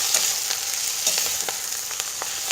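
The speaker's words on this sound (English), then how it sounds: "the Swiss chard, we just want to kind of gently toss it in the hot oil" Swiss chard tossed in hot oil in a pan, a steady close sizzle with scattered soft stirring clicks throughout, no voices.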